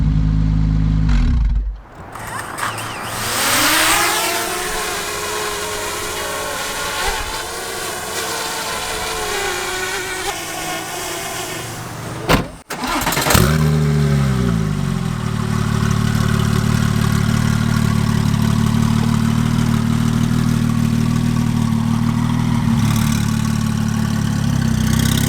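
A straight-pipe Porsche 911 Turbo exhaust cuts out, then fires up and revs with a rising, raspy snarl, goes quiet briefly, then restarts and settles into a loud, steady, droning idle close to the microphone.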